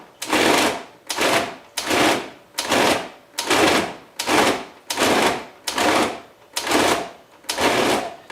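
Food processor pulsing ground, spiced luncheon meat in ten evenly spaced bursts of whirring, each about half a second long with brief gaps, loud and close with no talking.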